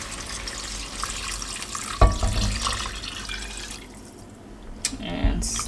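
Beef broth poured into a stew pot for spicy stewed beef, a running liquid splash under kitchen clatter with a sharp clank partway through, fairly close and moderately loud.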